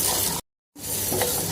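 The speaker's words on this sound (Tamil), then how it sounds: "நல்லா பருப்பு, உளுந்து பருப்பு வறுத்தாச்சுங்க." Lentils and urad dal dry-roasting in a pan for drumstick leaf thokku give a steady, close, crackling sizzle with stirring, broken by a brief silent gap midway.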